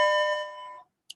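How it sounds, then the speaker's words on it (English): A school bell rings once in a classroom, a bright sustained electronic tone that fades out after under a second, followed by silence and a faint short high click. "Excuse the bell there."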